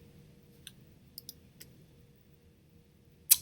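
Computer mouse clicks while saving a file. A few faint, sharp clicks are spread across the span over a quiet low hum, and a louder click lands at the end.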